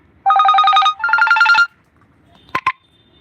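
A phone rings loudly and close during a Hindi live stream, two bursts of rapid trilling electronic ringtone, then a short pause and two brief beeps as the call is cut off.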